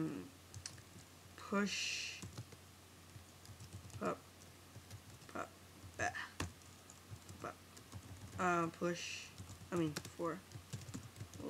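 Keys on a computer keyboard clatter in quick irregular bursts while entering code in Xcode, the clicks close and crisp, with someone talking throughout.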